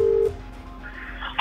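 Telephone keypad dialing tones: a short steady beep at the start, then fainter tones and a brief burst of higher tones at the end, heard alone without talk.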